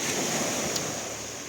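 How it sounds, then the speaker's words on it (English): Waves of the Red Sea wash in as a steady, close roar of surf with broadband hiss and some wind, continuous and with no voices. "Look at the waves of Red Sea."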